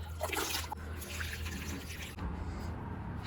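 Water poured into potted plants such as aloe vera makes a soft, continuous splashing and trickling, fairly close and low in level, with no talk.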